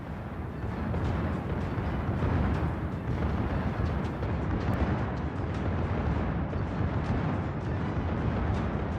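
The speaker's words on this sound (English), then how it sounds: "Fearsome barrage of secondaries, withering fire" Warship secondary guns firing in World of Warships, a dense nonstop barrage of overlapping booms and cracks rolling together into a loud continuous roar.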